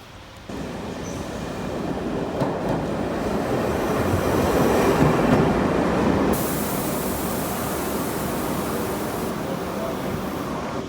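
A train rumbles past on a Croatian railway for several seconds, a steady loud roar of wheels on rails that swells and then slowly fades.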